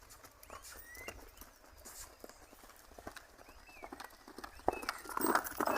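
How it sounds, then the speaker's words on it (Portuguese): A young, recently broken horse in training moves at a gallop, its hoofbeats a soft, quick, irregular patter at moderate distance over a steady outdoor background, growing louder and busier near the end. "Aí vou deixar ele no galope."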